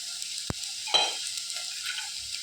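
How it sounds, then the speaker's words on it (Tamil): Finely chopped tomatoes drop into a hot frying pan with a soft thud, followed by a short burst of sizzling and stirring that settles back into a low, steady frying hiss. "இப்போ பொடியாக வெட்டி வச்சுருக்கிறேன் தக்காளி சேர்த்துறேன்"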